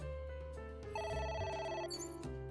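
Telephone ringing inside the video game AI: The Somnium Files, a clear electronic ring lasting a couple of seconds at low volume with no talk over it.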